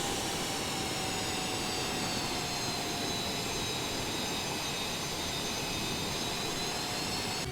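A steady, loud roar from a Eurofighter Typhoon jet taxiing in the Microsoft Flight Simulator game, with an even engine whine holding throughout and no voices.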